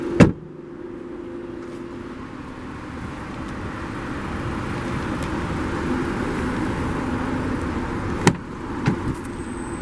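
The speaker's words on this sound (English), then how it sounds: "bring the automatic driver's side window back up" Driver's side power window on a 2019 Nissan Altima 2.5 SR closing, a faint, steady motor whir lasting several seconds, bracketed by sharp clicks, with no speech.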